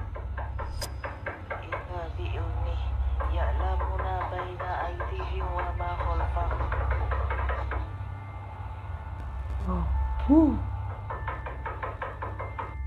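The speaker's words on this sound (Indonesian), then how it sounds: "Masih ketok-ketok." Repeated knocking on a door, a run of sharp raps that grows in strength, heard alongside voices and a faint electronic hum.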